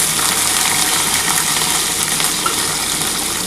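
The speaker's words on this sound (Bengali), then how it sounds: "এবার কিন্তু ওই তেলের মধ্যে উচ্ছেটা হালকা করে ভেজে তুলে নেবো।" Bitter gourd lightly frying in hot oil, giving a loud, dense, continuous sizzle close up, steady throughout with no talk.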